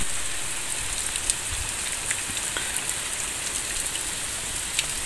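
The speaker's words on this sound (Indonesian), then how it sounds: "suasana kampung Cikawung yang sedang hujan gede ini." Heavy rain pours steadily over a rural Sundanese village of traditional stilt houses in the late afternoon, a dense, even hiss of downpour with scattered close drips, no voices.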